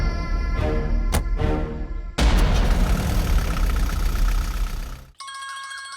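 After rumbling mechanical noise and a heavy thud, a bright electronic phone ringtone starts ringing clearly at the very end.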